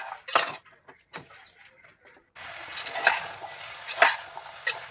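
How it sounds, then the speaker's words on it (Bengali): Peas and vegetables for pav bhaji are stirred in a pressure cooker pot, with sharp intermittent scrapes and clinks of a spoon, then a soft sizzling bed under further scraping strokes, close and without talk. "কড়াইশুঁটিগুলিও দিয়ে দেবো এর মধ্যে। দিয়ে ভালো করে নাড়াচাড়া করে"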